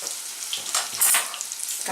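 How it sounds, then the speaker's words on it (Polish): Food sizzles and crackles in a hot frying pan, a steady close spitting hiss with brief louder pops, with no voices. "już pierwszy już się smaży."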